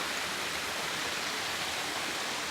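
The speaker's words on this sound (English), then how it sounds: "a beautiful little waterfall right here. May be noisy" Small waterfall splashing steadily at close range, a dense unbroken rush of falling water with no voices.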